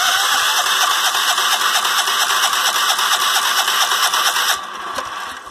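A small engine on a hay field machine is cranked with the choke on, giving a steady rapid mechanical clatter that cuts off near the end.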